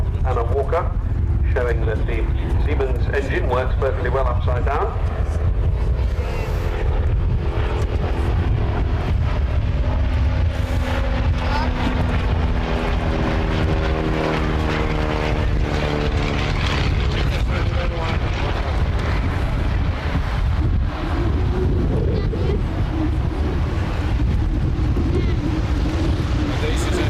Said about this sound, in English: Fly past from Anna Walker, showing that the Siemens engine works perfectly well upside down.